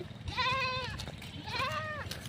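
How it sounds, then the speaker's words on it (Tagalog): Two drawn-out goat bleats, each wavering and nasal, close by with a brief pause between them over faint background noise. "malapit na yung kambing sa kanya"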